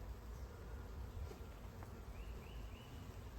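Honey bees from a laying-worker colony hum steadily on hive frames, a faint, continuous buzz with a few louder wingbeat passes drifting close by.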